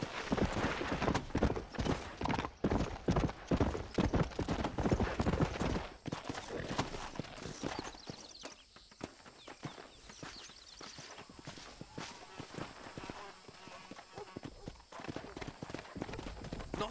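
Horse hooves clip-clop steadily in Red Dead Redemption, loud and close at first, then a quieter, looser walking rhythm, with an occasional whinny and brief voices over the hoofbeats.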